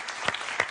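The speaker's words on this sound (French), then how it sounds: "On applaudit quand même Emmanuel, qui est à 6 points." Studio audience applause on a French TV quiz game show, a brief, steady wash of clapping with a couple of sharper accents.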